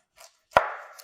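A knife cuts an onion in half with one sharp chop on a board, preceded by a soft scrape, then a brief ringing decay.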